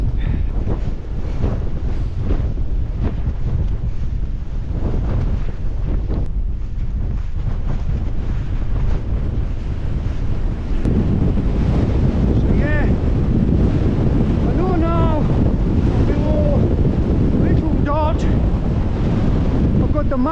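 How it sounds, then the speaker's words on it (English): Strong wind on an open Lake District mountain ridge buffets the microphone in a loud, continuous roar, with gusty rumble and faint breathy sounds from the walker. "I've got the wind on my back now."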